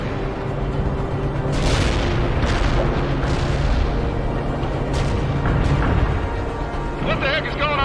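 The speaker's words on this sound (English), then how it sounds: "Ivan is calling in a heavy artillery barrage on your position." A heavy artillery barrage in the game World in Conflict, loud rolling booms and impacts layered over a constant rumble, with a radio-style voice speaking over the bombardment.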